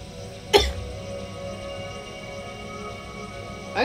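A person gives one sharp, close cough and throat clear, with a second short throat clear a few seconds later against a quiet game background.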